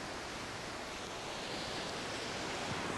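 A waterfall in Serra do Aracá roars steadily up close, a dense, unbroken hiss and rush of falling water with no other sounds.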